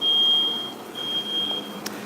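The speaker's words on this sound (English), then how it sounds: "The smoke alarm or something is going off in here." A high, thin electronic tone sounds repeatedly in short bursts, a smoke alarm beeping indoors against a quiet background.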